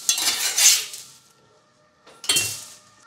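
Two bursts of bright scraping and metallic clatter from work on a crêpe pan while cooking Breton buckwheat galettes, separated by a short near-silent gap, close and moderately loud with no talk.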